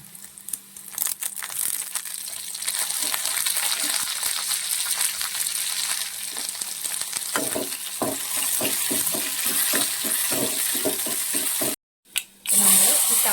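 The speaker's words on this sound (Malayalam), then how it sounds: "താളിച്ചത് നമ്മുടെ കറിയിലോട്ട് ചേർക്കുവാണ്" Hot tempering with curry leaves poured into a Kerala taro leaf curry gives a steady, close sizzle and crackle for most of the clip, with one brief cut near the end, and no talking.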